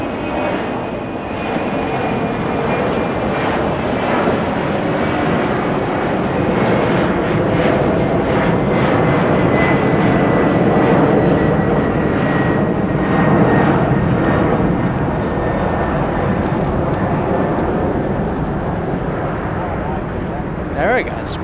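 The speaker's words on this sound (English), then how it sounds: "A little bit of a rocket launch takeoff, very quick liftoff." A jet airliner takes off from Los Angeles and climbs steeply, its engines a loud, sustained roar, with a voice speaking over it.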